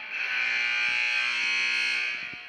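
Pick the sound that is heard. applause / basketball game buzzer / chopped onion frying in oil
basketball game buzzer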